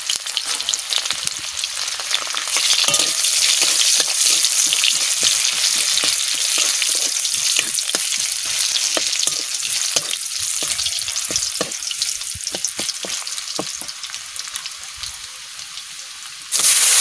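Garlic fries with bitter gourd and potatoes in oil, a dense, continuous crackling sizzle with frequent sharp pops and stirring clicks throughout, loud and close.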